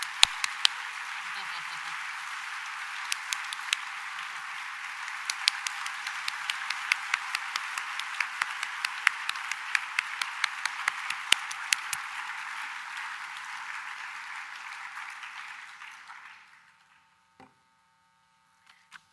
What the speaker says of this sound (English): Would you please join me in encouraging the bells to keep ringing with a warm round of applause?